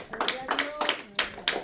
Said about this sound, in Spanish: cuántos le damos un fuerte aplauso al Rey de Gloria con todo el corazón